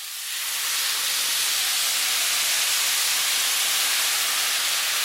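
Stir-fry sauce hitting a hot pan of chicken, asparagus and carrots, a loud, even hiss that swells in within the first half-second and holds steady and close.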